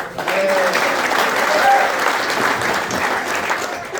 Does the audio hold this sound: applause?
yes